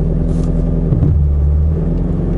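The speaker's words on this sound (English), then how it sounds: "just gonna let out on the clutch ever so lightly" A manual car's engine idles with a steady low rumble as the clutch is eased out in reverse, the tone dipping slightly under load midway before settling back.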